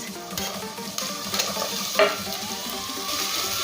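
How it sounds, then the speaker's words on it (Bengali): Finely chopped carrots and beans frying with lightly fried onion in a pan, a steady sizzle broken by stirring scrapes and a metallic clink of utensil against the pan, with no voices. "এখন দেবো একদম ছোট করে কেটে নিয়ে গাজর আর দেবো বিনস"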